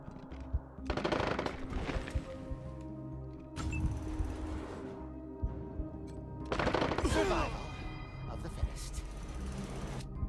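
Bursts of automatic gunfire from the post-apocalyptic game Wasteland 3, fought out on a farm, come in several loud, dense rattling volleys separated by short lulls, with a voice shouting over part of the action.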